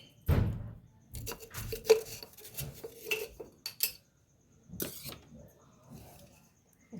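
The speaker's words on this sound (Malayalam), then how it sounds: "രണ്ട് പച്ചമുളക് കുറച്ച് നാളികേരം ഒരു ലേശം വെളുത്തുള്ളി ഞാൻ നടു കീറിയതാട്ടോ വെളുത്തുള്ളി നന്നാക്കാൻ എളുപ്പത്തിന് എന്നിട്ട് ഇതൊന്ന് ചതച്ചെടുക്കട്ടെ" Green chillies, grated coconut and split garlic cloves being crushed by hand, giving a run of close, irregular knocks and grinding clatters with short pauses, no talking.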